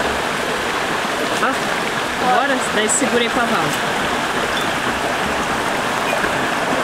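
Roadside waterfall in Mato Grosso do Sul, Brazil, a steady close rushing roar of falling water that continues throughout while people talk briefly over it.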